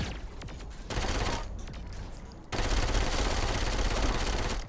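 Gunfire from a newly acquired weapon in the Saints Row IV video game, a dense continuous burst of rapid shots that grows louder midway and keeps rattling steadily to the end, with no talk over it.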